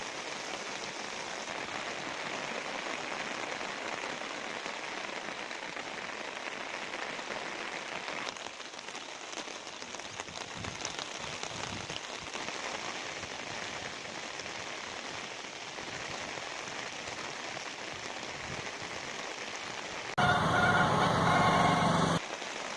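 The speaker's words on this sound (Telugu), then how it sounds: "అశ్వారావుపేటలో రాత్రి నుంచి ఎడతెరిపి లేకుండా వర్షం కురుస్తోంది." Heavy, unbroken rain in Aswaraopeta after a night of downpour, a dense steady hiss filling the scene throughout, with a brief change in tone near the end and no voices.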